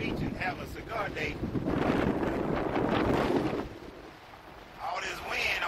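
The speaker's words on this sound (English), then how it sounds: "All this wind, I don't even know if y'all can hear me." Strong wind buffeting the microphone on a beach where sand is blowing, a loud rushing roar with gusts, while a person talks over it.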